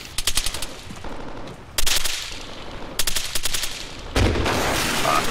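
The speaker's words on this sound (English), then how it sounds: "See that helicopter shooting?" Helicopter machine gun fire in the Arma warfare game BeCTI: several loud bursts of rapid automatic shots, separated by brief pauses, with heavy continuous rumble between them and no talk.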